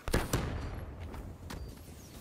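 Gunfire in Black Ops 3 Search and Destroy: two sharp close shots open, followed by quieter scattered shots and rumbling over the remaining moments.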